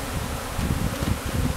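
Honey bees buzzing at an open hive during comb building, a close, steady low drone with rustling movement and no talk.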